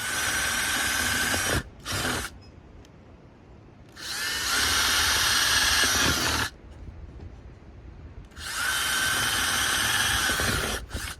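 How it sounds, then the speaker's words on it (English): A power drill whines in three separate bursts drilling holes into a plastic plunger, with quiet gaps between them, close and steady while it runs. "the first thing I'm going to do is drill some holes into my plunger"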